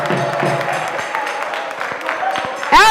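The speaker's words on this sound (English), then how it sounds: "Propane, which is University of Ghana, ended this contest with 52 points. A round of applause to them." Audience applause fills the hall for a University of Ghana team at a gas-industry quiz contest, a dense, steady wash of clapping that carries on without a break.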